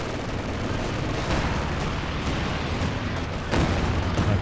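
Gunfire rattles through a Company of Heroes 2 battle, dense overlapping shots and bursts mixed with booming impacts over a constant loud din.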